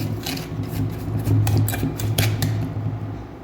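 Almonds and raisins are stirred together in a bowl for wheat butter biscuits, a rapid series of close clinks and scrapes with a steady low hum underneath.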